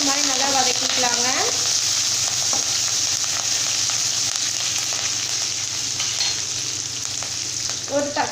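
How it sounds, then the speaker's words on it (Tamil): Garlic, dried chillies and curry leaves sauté in hot oil for a sambar, giving a loud, steady sizzle that fills the whole stretch, with a bit of stirring and a voice briefly at the start. "இப்போ இது எல்லாமே சேர்த்துட்டு இந்த மாதிரி நல்லா வதக்கிக்கலாங்க"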